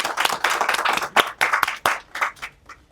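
A small audience clapping for themselves at a gathering, a close, dense burst of hand claps with uneven rhythm that thins out and fades over a few seconds.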